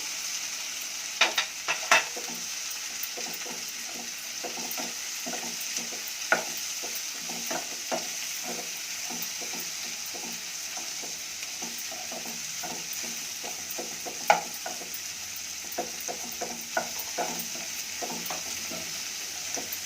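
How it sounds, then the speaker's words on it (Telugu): Potato pieces are stirred and frying in a pan for Bombay saagu: a soft continuous sizzle broken by frequent light scraping clicks of the spoon against the pan, with no talking. "ఇందులోకి ఇప్పుడు ఆలు ముక్కలు వేసి కొంచెం తిప్పుతాము"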